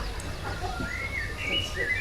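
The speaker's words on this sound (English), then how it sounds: "we heard all the birds singing, which sounded really nice" Birds sing at dawn in quiet countryside, several thin chirps and warbling phrases at moderate distance over a steady low background hum.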